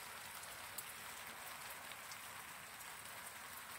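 Evening rain falls steadily as a soft, even hiss with faint scattered drop ticks, heard quietly outdoors with no voices.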